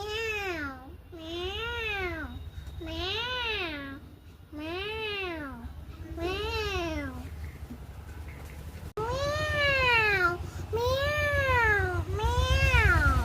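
A young child imitates a cat's meow, producing about nine drawn-out, rising-and-falling mews in steady succession, loud and close, with a steady low background hum.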